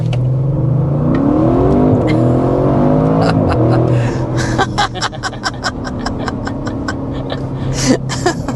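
A 2025 Audi RS6 Avant launches hard, its engine roaring up through the revs with rising pitch, then quick gear shifts and crackling exhaust pops as the sound settles, loud and close from inside.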